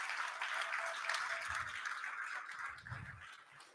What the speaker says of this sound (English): can I get a round of applause for our board of directors